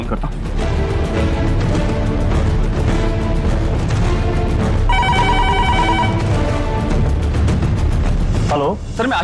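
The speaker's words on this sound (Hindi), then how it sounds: "मिल गया नंबर, मैं अभी फोन करता हूँ।" An outgoing telephone call rings steadily at loud level, a repeating electronic ring tone over a thick, dramatic background of music and rumble, ending abruptly.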